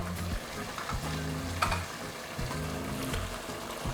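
Chicken pieces and chicken innards cook in a pot of Thai green curry, giving a steady close sizzle and frying crackle with soft bubbling and occasional stirring scrapes, no voices.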